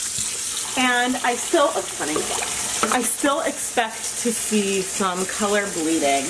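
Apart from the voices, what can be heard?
tap water running while rinsing dyed cotton yarn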